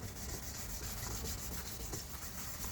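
A car headlight assembly is wet-sanded by hand with 2000-grit sandpaper, giving a faint, steady rubbing hiss in quick back-and-forth strokes, with no one talking.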